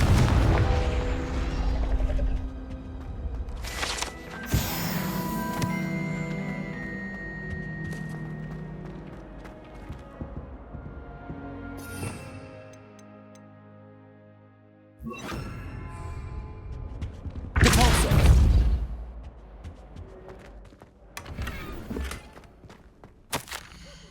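Booming blasts from the Confringo spell in Hogwarts Legacy, loud sharp impacts with rumbling decay, several bursts spread across the stretch alongside game music and movement sounds.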